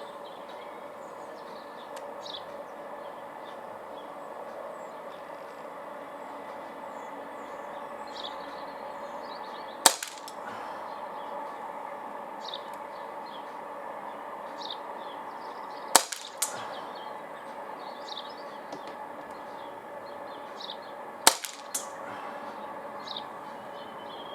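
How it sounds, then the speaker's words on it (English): A Springfield Armory XDe BB pistol firing Daisy BBs gives three sharp, isolated cracks several seconds apart, each loud against a quiet outdoor background hum. "So it will be 8 shots, 8 Daisy BBs, again freestanding."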